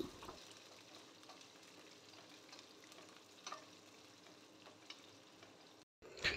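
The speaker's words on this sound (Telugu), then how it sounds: "రెండు టీ స్పూన్ల వేయించుకున్న వేరుశనగ గుండ్లు కరివేపాకు పొడవుగా చీల్చుకున్న పచ్చిమిర్చి వేసి బాగా ఫ్రై చేసుకోవాలి" Cumin, garam masala, roasted peanuts, curry leaves and slit green chilies fry in oil with a soft, continuous crackle and light stirring taps, faint and close, ending in a short dropout and a burst of sizzle.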